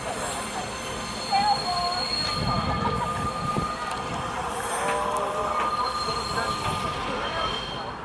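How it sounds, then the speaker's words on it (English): Train wheels squeal on the Changhua roundhouse turntable in Taiwan as it turns, with long high-pitched metallic screeches and whines over a low rumbling background, steady throughout at moderate distance. "Okay, this guy was moving the roundabout."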